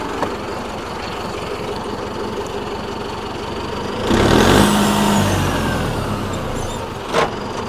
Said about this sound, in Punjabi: ਇਹ ਮਾੜਾ ਰੇਸ਼ ਰੂਸ਼ ਕਰਕੇ ਦਿਖਾਉਣੇ ਤੁਹਾਨੂੰ